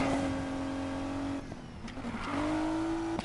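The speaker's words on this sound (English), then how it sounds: "just gonna handbrake into here and go over to the boss" A Nissan 350Z in Need for Speed Payback drifts through a handbrake turn, its engine holding a steady high drone, dipping briefly mid-slide, then climbing again with a rising rev and faint tire hiss.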